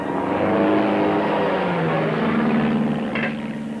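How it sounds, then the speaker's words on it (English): A propeller airplane engine from a 1937 Western drones steadily and loudly with an uneven, rough tone, holding a sustained roar throughout with a brief higher rattle near the end. "What's the matter with that plane?"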